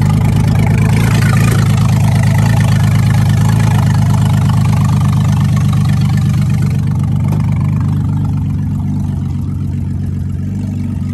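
A 2001 Ford Winstar SE minivan engine with 218,000 miles runs steadily at idle, a loud, close, continuous low rumble with a faint knocking texture throughout, and no voices.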